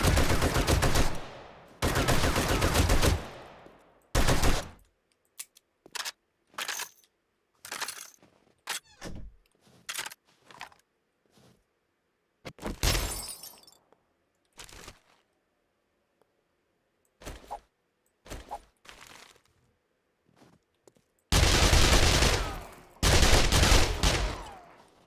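Enemy gunfire in 7 Days to Die comes in loud, long automatic bursts at the start and end. Between them are sharp isolated shots and short volleys separated by near-silent gaps.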